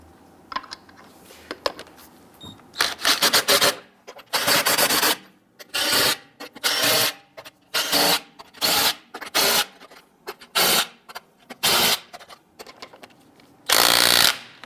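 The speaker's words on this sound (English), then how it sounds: "Get our lug nuts all started by hand first." Lug nuts are spun on by hand onto the wheel studs of a 2011-2021 Jeep Grand Cherokee, heard as a close series of short, scraping, rasping bursts separated by quiet gaps.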